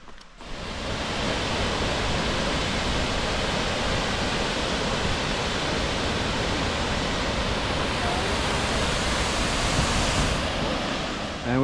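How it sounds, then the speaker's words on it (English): Steady broadband rush of flowing river water in Far North Queensland, constant and fairly loud throughout, heard from close by. "There's the river down there."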